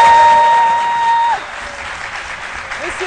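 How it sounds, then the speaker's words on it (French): A television studio audience on a French-language midday talk show applauds a guest as he comes on, a dense burst of clapping that follows a sustained tone and fades a little while continuing under the room. "notre invité témoin, Monsieur Touré, que je vous demande d'applaudir."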